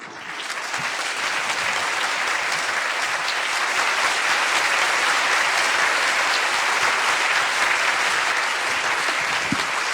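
Sustained, dense clapping from a seated audience at a talk on quartz crystals, holding at an even level for the full ten seconds, with no speech over it.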